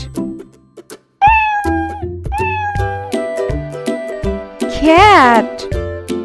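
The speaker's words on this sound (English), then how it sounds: "Cat." A domestic cat meows several times in a row, each call clear and close with a bending pitch, with a longer, louder wavering meow near the end and a brief soft sound before the first call.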